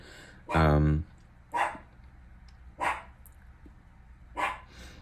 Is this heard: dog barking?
yes